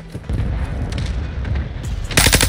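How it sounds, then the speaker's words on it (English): Low, rumbling explosions from mortar fire in a video game boom in a dense, muffled barrage, and a sharper, brighter blast cuts in at the very end. "Throw a mortar over there."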